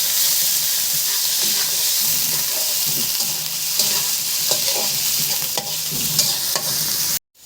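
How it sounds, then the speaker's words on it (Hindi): Onions frying in very hot ghee, with a steady loud sizzle and hiss throughout and occasional scraping stirs in the pan, ending abruptly. "घी मैंने ज़्यादा गर्म किया है क्योंकि हमने प्याज को बिल्कुल फ्राई कर लेना है, ब्राउन कलर का कर लेना है।"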